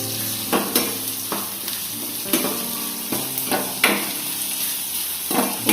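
Chopped onions fry in oil in a pan, a constant close sizzle punctuated by repeated spatula scrapes and knocks roughly every half second to second, with no talking.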